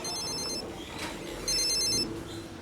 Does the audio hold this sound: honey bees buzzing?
no